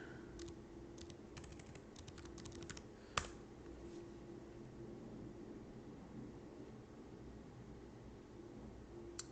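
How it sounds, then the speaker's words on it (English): A computer keyboard being typed on for a password, a quick burst of light, close key clicks followed by one sharper tap, then steady quiet background hiss with no talking. "I'm going to type in my password."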